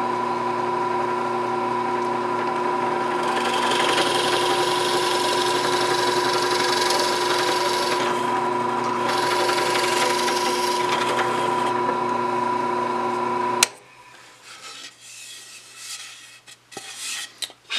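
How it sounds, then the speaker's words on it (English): A drill bores through a wooden chair piece into a backing block, a long steady whine with grinding, rasping texture that stops abruptly, followed by faint handling clatter. "So I'm going to put a piece of blocking behind it, so when I drill through there isn't any breakout on the back."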